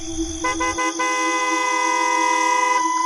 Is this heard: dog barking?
no